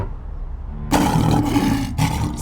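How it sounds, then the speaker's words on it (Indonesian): A sea lion lets out a loud, rough roar close by, a single sustained bellow followed by a short second burst, after a quieter low rumble of background noise. "hewan ini disebut singa laut karena bisa mengaum seperti singa darat"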